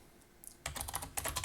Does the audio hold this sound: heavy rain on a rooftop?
no